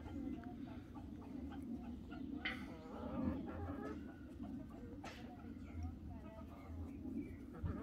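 Hens and roosters roam a green farmyard with plenty of free space, clucking softly and intermittently over a steady low rumble of background noise, with the birds at a distance and faint.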